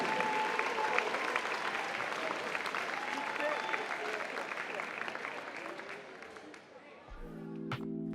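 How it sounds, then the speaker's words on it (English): A crowd applauds steadily for Ronni Williams at a jersey retirement unveiling at Atlantic, dense clapping that thins slightly before a tonal electronic sound cuts in near the end. "Everyone give me a round of applause for Ronni."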